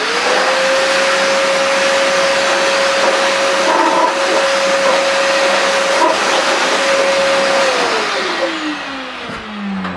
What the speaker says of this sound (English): switch this hose round, and it allows it to blow